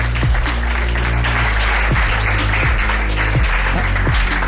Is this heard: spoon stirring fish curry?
no